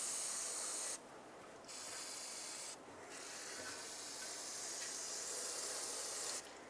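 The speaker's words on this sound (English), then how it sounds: "Let's clean this up with some brake parts cleaner. Get all the dust and debris off." Brake parts cleaner sprays onto the rear wheel hub of a 2007–2010 Chrysler Sebring in hissing bursts, with short pauses between each spray.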